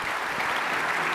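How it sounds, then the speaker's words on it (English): Audience applause for a panel at a conference event, a dense, steady wash of many hands clapping at a moderate level with no voices standing out. "Guys, give them a big round of applause."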